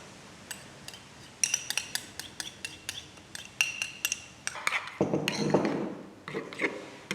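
Garlic and chili being added and mixed into mayonnaise in a bowl for a family cheeseburger, heard as a series of sharp utensil clinks and scrapes against the bowl, with a denser stretch of scraping and stirring near the end.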